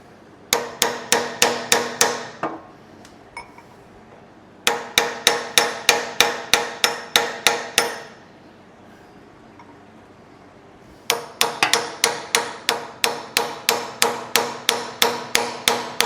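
A chisel is struck repeatedly with a hammer in three separate bursts of rapid, evenly spaced sharp metallic blows, loud and close, with short quiet pauses between the bursts and no talking.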